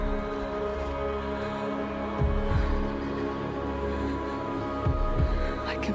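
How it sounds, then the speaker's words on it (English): Heartbeat in a game trailer shown at The Game Awards 2023, a few deep low thumps in pairs standing out over a steady dark ambient hum and drone, moderately loud and without speech. "The heartbeat of the lost ones."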